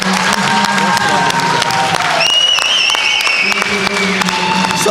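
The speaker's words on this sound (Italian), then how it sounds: "Ci uniamo assolutamente all'applauso scrosciante" A crowd at a Sardinian powerlifting squat and deadlift championship claps and cheers loudly after a big lift, continuous applause under a commentator talking over it.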